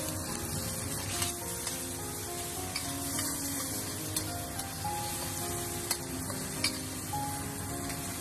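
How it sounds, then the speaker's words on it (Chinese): Minced pork stir-fried with carrots in a wok: steady close sizzle with scraping spatula strokes and occasional sharper clicks, no talking. "再把剁好的肉末倒进来，继续给它煸炒，把肉末炒香炒熟"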